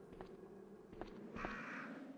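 Crows caw several times in Resident Evil 2, harsh calls in short bursts against a quiet outdoor game ambience with faint scuffing steps.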